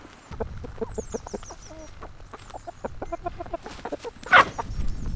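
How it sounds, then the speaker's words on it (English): Broody hens cluck and squabble close by in a series of short, rapid clucks, with higher chirps overhead and a sharp squawk near the end. "So we've got a couple of broody hens at the moment"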